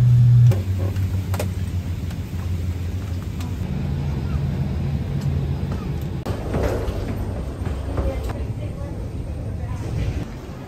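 An airliner landing at Aeroparque in Buenos Aires, a steady low cabin rumble and roar under a person talking, with a few soft clunks.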